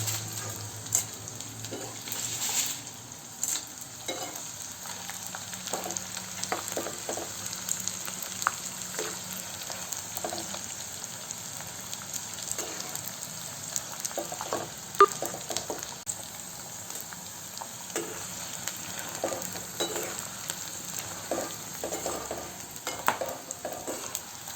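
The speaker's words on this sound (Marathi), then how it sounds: "हा आपला जेवढा उरलेला डिंक आहे ना, हा पूर्ण असा तळून घ्यायचा आहे." Edible gum (dink) pieces fry and puff in hot oil for Marathi dinkache ladoo while being stirred, a steady close sizzle with scattered scraping clinks of the spoon throughout, no talking.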